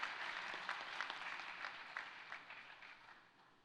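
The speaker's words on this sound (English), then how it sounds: "So how about a huge round of applause?" An audience claps in a steady round of applause at a podium event, fairly faint and distant, slowly tapering off toward the end.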